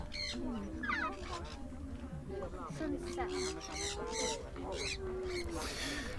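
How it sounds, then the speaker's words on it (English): A big flock of cranes passes overhead at Huai Lan Reservoir in Chiang Mai, their trumpeting calls rising and falling under near, steady talk and outdoor background noise. "There's a big flock of cranes going over"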